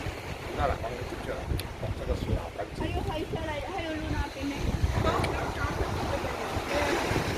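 Sea surf at Pintong beach in Taiwan, a continuous wash of waves mixed with gusty wind buffeting the microphone, while a person talks over it.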